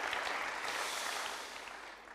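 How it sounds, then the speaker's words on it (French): Audience applause fills a hall at a regional business awards ceremony, a steady, moderately distant wash of clapping that holds evenly and then eases off slightly toward the end. "J'ai senti quelques applaudissements partir"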